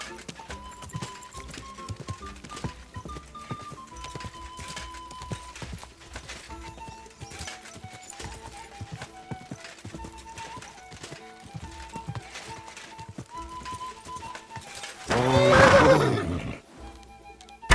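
Steady horse hoof clip-clop in the video game Kingdom Come: Deliverance II over background music, then a loud, close horse whinny near the end.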